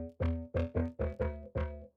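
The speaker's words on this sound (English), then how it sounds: "without the effects on my rack here, it sounds like this" Dry synth preset played without rack effects: six punchy, buzzy chord stabs in a quick uneven rhythm, each with a sharp attack and short decay, no talking.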